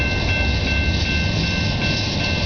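A train rolls steadily along the rails nearby, a loud, constant rumble with a faint high metallic whine on top and no talking.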